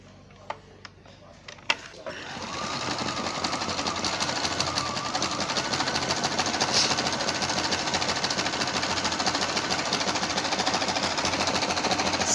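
An Electrolux electronic sewing machine starts after a few clicks and then stitches steadily, a rapid, even mechanical chatter that continues at close range.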